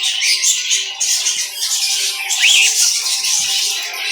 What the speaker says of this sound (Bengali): ককাটেল আছে অনেক